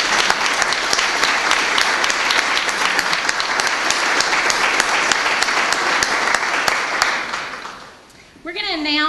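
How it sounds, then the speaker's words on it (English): Sustained audience applause at the Kosbe Awards 2009 for the award finalists, dense steady clapping filling the room for about eight seconds before fading, followed by a brief voice. "I want to give all of them a big round of applause"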